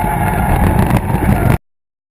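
A Mazda RX-7 FB being driven hard in a drift, its engine roaring loud and close in one steady, revving burst that cuts off abruptly after about a second and a half.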